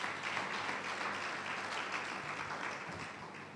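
Church congregation clapping hands together during a Sunday morning service, a steady, dense wash of applause holding throughout at moderate level without speech.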